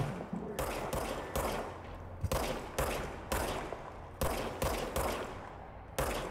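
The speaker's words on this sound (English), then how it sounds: "Fire your service weapon." Service weapon shots in the video game Control, a series of loud, sharp pistol cracks fired at a steady, uneven pace with short echoing tails, alone without talk.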